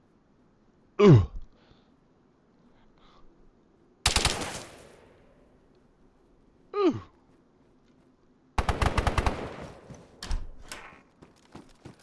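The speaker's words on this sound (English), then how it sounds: "I guess it would make sense it's the M4 suppressor if it takes M4 parts." Suppressed M4 rifle fire in a video game, set indoors in a room: one short, sharp burst, then a longer run of rapid, loud shots tapering into scattered echoes, with a man's brief exclamations in between.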